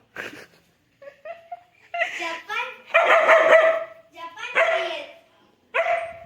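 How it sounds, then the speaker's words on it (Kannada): A dog barks and yips in short bursts, close by, with people talking and laughing around it. "ನೋಡಿ ನಾಯಿ, ಹೊಸ ನಾಯಿ ತಗೊಂಬಂದಿದ್ದಾರೆ."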